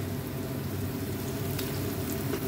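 Vegetable stems fry in a pan next to fish, making a dense, steady sizzle close up, with faint stirring through it and music or a low background hum underneath.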